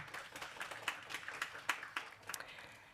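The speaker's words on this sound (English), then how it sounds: "A big round of applause for all the speakers" Faint, scattered applause from a small audience after a mobility panel discussion, with individual claps audible as irregular sharp taps in a quiet room rather than a full ovation.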